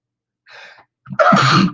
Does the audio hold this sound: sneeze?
yes